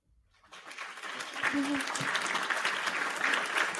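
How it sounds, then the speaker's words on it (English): A podcast studio audience breaks into applause for a guest, swelling from quiet into a sustained, dense burst of clapping with voices and cheers mixed in. "Y'all give a round of applause for my good friend"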